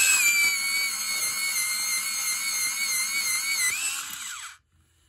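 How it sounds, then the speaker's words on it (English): A Westcott battery-operated electric sharpener grinds a pencil with a steady, high-pitched whine for about four and a half seconds, then cuts off abruptly into silence; no talking. "Use the Westcott battery-operated sharpener."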